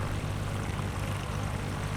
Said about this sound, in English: The seaplane touches down on the water.